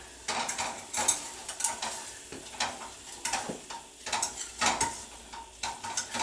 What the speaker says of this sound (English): just keep stirring it